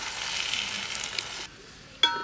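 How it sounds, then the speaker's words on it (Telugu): Gongura leaves with turmeric and salt sizzle in oil in a pan, a bright hiss that drops away partway through before a sharp clink of the stirring utensil near the end. "ఇట్లా అన్నిటిని కలిసేలా బాగా మిక్స్ చేసుకుందాం"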